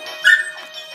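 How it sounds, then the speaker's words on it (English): A pet dog gives a short whimpering yip indoors over a faint steady electronic hum, close and brief, with no talking. "Sorry about my dog."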